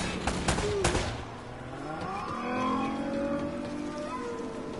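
Gunfire in Uncharted opens with a quick cluster of sharp shots, then fades into rumbling background noise and other game sounds.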